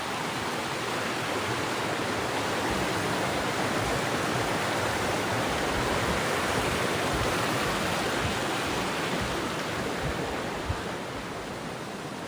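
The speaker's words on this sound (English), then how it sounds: "this is actually potable spring water. Just coming out the pipe, doing its thing" Potable spring water pours from a pipe near an old foundation in Munising, Michigan, a steady, close, unbroken splashing hiss that continues evenly without voices.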